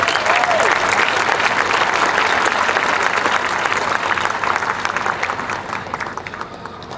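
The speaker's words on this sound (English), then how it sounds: "So please give them one more round of applause." An audience at a county fair queen competition gives sustained applause to former fair queens, dense clapping from a large crowd that holds steady and then gradually thins out, with a voice briefly heard at the start.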